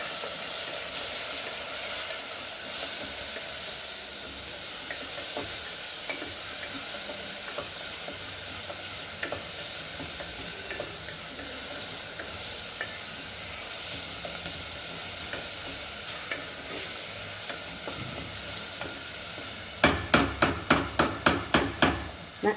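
Vegetables frying in a pot for Goan-style vegetable pulao, a steady hissing sizzle with faint stirring, ending in a quick series of sharp metallic taps on the pan rim.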